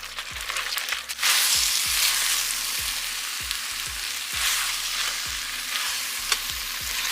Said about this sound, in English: Just gonna give that a good stir around and let the tomato paste cook down.